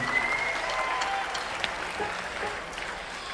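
A crowd at a live concert at the Paramount Hudson Valley applauds, a steady, full wash of clapping with a few sharper claps and a faint high whistle near the start.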